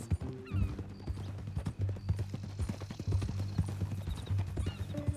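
Horse hooves clip-clopping in Red Dead Redemption 2, an uneven walking rhythm of close, clear hoofbeats with faint game sounds behind them.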